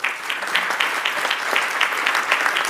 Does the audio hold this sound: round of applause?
yes